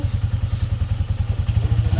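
A Yamaha Sniper 155 VVA motorcycle engine runs close by with a steady, rapid thumping pulse and light mechanical clatter, loud and alone without talk.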